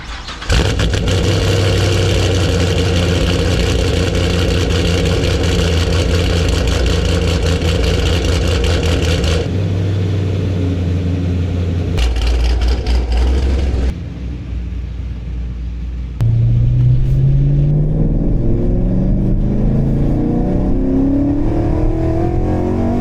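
A cammed 2014 Camaro Z28 race car engine revs hard and loud, holding high for several seconds, dropping, then climbing again in rising revs, close by with no talk.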